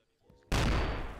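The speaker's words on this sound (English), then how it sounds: "Explosion, over." A satchel charge explodes in Arma 2: near silence, then one sudden loud blast with a long rumbling decay.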